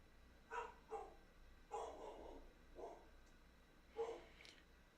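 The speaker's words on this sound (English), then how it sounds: "I think Sean's back because Tycho won't stop barking." A dog barks repeatedly indoors, several short yips and barks spaced irregularly across a few seconds, faint and somewhat distant against a quiet background.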